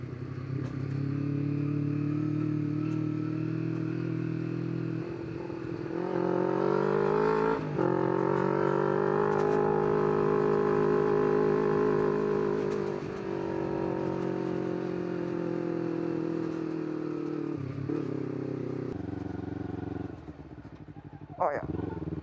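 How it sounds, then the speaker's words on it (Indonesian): Honda CBR 250RR motorcycle engine on the road, a steady droning hum that rises as it revs around the middle, then settles back, heard close and continuous with a brief clatter near the end. "Kalau naik motor ginian lucu."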